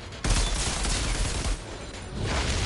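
Sustained gunfire from the co-op shooter Outriders on PS5, a loud continuous barrage of rapid shots that swells and dips over a few seconds, with no voices over it.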